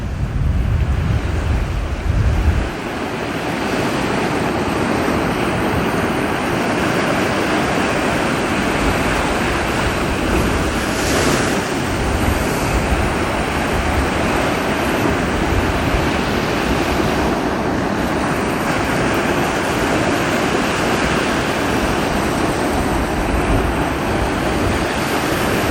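Steady roar of sea surf and gusting wind along the shore, loud and continuous with wind buffeting the microphone, no voices.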